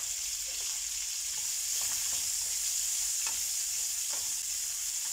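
Onion and ginger frying in a hot pan, a steady close sizzle with occasional stirring scrapes and crackles, no talking.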